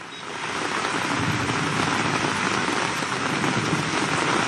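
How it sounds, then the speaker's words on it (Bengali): Heavy rain pours outside the Kolkata state assembly building in a sudden downpour, a dense, steady, loud roar of drops on surfaces that swells in the first second and then holds, with no voices. "আচমকা মুষলধারায় বৃষ্টি"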